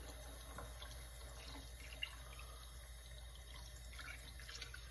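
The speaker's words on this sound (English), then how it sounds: "I'm going to add a lot of water." Tap water runs steadily into a cooking pot while Sicilian-style baccalà, salted cod, is being prepared, a faint, even rushing hiss with no talk over it.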